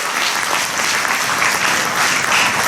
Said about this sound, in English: May we have a huge round of applause, please?